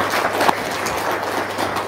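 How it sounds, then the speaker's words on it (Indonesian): Applause breaks out from a crowd at an Indonesian religious talk, a steady dense wash of clapping filling the whole stretch at moderate level, with no voices over it. "Tepuk tangan dulu dong."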